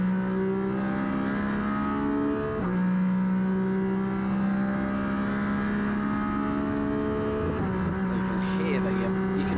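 A Porsche 718 Cayman GT4 RS Clubsport race car at full throttle on the Misano circuit during a Porsche Sports Cup Suisse race. The engine drones loud and continuous, its pitch climbing, with brief dips at gear changes.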